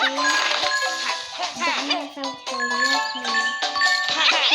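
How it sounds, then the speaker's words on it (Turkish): Bright bell-like tinkling rings out repeatedly in the Super Bear Adventure game, layered chimes overlapping in quick succession, fairly loud and with what may be voices mixed in. "Zil ketyapti."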